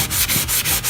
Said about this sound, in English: So I'm sanding. Y'all see the previous painter let some drip.